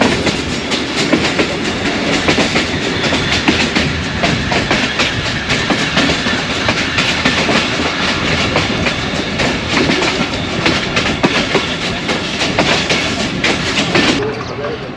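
A train runs steadily along the Narowal branch line in Pakistan, its wheels giving a continuous clickety-clack over the rails with a dense rolling rumble throughout, loud and close, with no talk over it.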